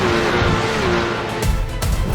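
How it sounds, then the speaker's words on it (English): Race car engines rev in the Porsche Esports Supercup video game at Monza at the race start, a loud layered engine drone with a rising tone and sudden bursts of acceleration near the end. "Engine revs rise."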